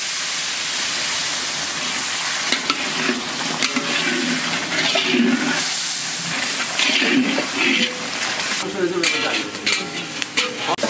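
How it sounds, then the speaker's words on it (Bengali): Spiced masala with turmeric and salt sizzles and fries steadily in a pan while being stirred, with a hissing rush of water added partway through for a village-style teetar curry gravy; the sizzling stays loud and continuous throughout. "লবণ, গ্রেভি করার জন্য একটু জল দিয়ে দেবো"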